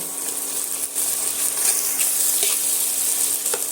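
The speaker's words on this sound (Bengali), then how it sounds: "পেঁয়াজ আর টমেটোর সঙ্গে এইভাবে কষিয়ে নেব" Onion and tomato masala frying in a pan for egg bhuna, a steady close sizzle with faint stirring scrapes throughout, no voices.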